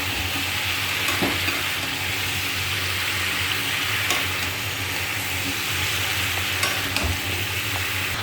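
Vegetables coated in a ground spice paste sizzle steadily in a pan while being stirred, a continuous close frying hiss broken by occasional soft scrapes and clicks of the spoon.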